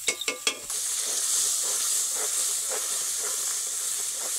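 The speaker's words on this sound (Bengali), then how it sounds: "2 মিনিটের মতন মশলাটাকে নেড়ে নেব" Masala sizzles and hisses loudly in a hot pan for potol korma, the steady frying broken by a few quick knocks of a spoon at the start and soft scraping as it is stirred.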